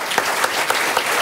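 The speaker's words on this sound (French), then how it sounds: "un tonnerre d'applaudissements pour eux" An audience applauds at a vocal concert, a dense, steady clapping from a crowd that stays loud and even throughout, with no voices over it.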